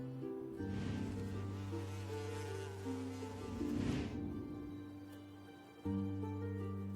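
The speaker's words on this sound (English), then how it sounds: "You just see a bee feeding on nectar." A bee buzzing as it feeds on nectar at a flower, a steady close hum that wavers in pitch and breaks off briefly before resuming.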